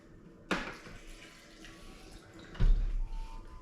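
Water being swirled at the bottom of a fermenting vessel while mixing sugar into wild apple hard cider, with a sharp splashy slosh near the start and another heavier slosh later, against a low background wash.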